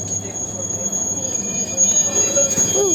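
Train wheels squeal as a train departs Cais do Sodré station, with a high metallic whine over low rumbling rail noise and a rising screech near the end, heard from on board.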